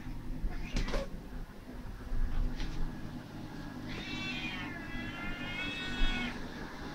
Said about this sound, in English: Crazy cats.